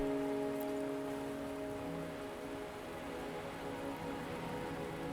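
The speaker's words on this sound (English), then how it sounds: "Are you trapped here by the rain?" Steady rain falls in the Wuthering Waves video game, a dense continuous hiss with a faint low musical hum underneath, constant and fairly loud.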